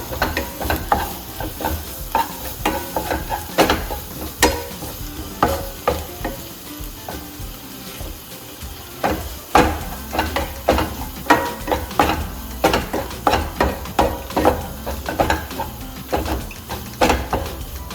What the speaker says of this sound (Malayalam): ആ മുളകുടെ പച്ചപ്പ് മാറുന്നത് വരെ ഒന്ന് ഇളക്കി കൊടുക്കണം